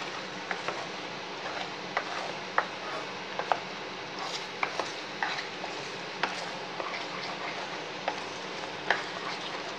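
Apple halwa is stirred in ghee in a pan, giving a soft steady sizzle broken by irregular faint scraping clicks from the spoon, heard alone.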